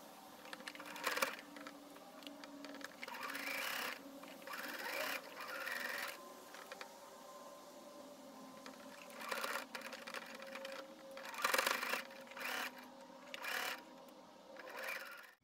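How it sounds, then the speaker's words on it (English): A home sewing machine stitching the shoulder seam of a DIY wrap dress, running in several short mechanical bursts separated by brief pauses, with rhythmic whirring and clatter close up and no talking. "we're gonna head to sewing machine, and you're gonna see when we will open"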